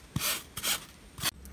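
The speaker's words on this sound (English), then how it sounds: "take my file and just try and file it down a little bit smoother" Hand file rasping a small wooden shamrock decoration to smooth it before sanding, in three short scraping strokes, close and fairly loud with brief pauses between them.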